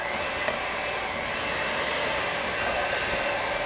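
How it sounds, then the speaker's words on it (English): An electric hand mixer creaming peanut butter pie filling runs with a steady, loud whir that holds through the whole stretch without pause, with no voices over it. "I'm going to take my mixer and just cream these 2 things together"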